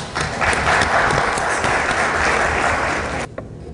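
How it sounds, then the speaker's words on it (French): An audience at an Independent Electoral Commission meeting with the Ivorian diaspora applauds loudly, dense sustained clapping that holds steady before breaking off abruptly near the end. "il faut applaudir très fort."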